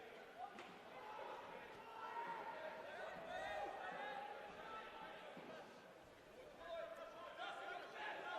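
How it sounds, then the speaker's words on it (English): Crowd murmur and chatter at a seaside football ground in Wollongong before a Wollongong versus Northbridge match, a steady wash of many distant voices with occasional thuds, under commentary. "Crowd filtering in."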